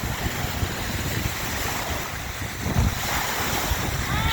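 Waves lapping on a dark-sand lake beach at Yellowstone, a steady close wash of surf mixed with heavy wind rumble on the microphone, continuous and fairly loud with no talk.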